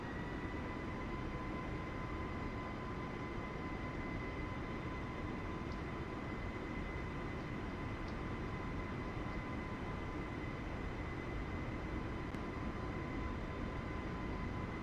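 Airbus A320neo engines held at 30% throttle give a steady, unbroken roar with a constant whine layered on top, loud and unchanging throughout, with no voices.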